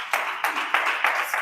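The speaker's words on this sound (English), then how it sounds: "Can we clap for Silas?" An audience claps for Silas during a live wellness-company stream: a light, steady patter of a few hands, rhythmic beats roughly every third of a second, fairly close and moderately quiet.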